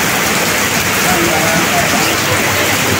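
Torrential downpour drumming hard on surfaces nearby, a loud continuous hiss of rain with scattered drips, steady from start to finish.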